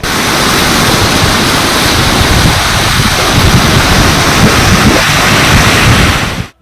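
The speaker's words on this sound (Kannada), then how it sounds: "ನದಿಗಳು ಉಕ್ಕಿ ಹರಿಯುತ್ತಿವೆ" Monsoon floodwaters of the Krishna river in Karnataka rush past as a loud, constant roar of churning water, close and unbroken for the whole stretch.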